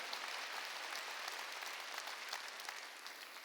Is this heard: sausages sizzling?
no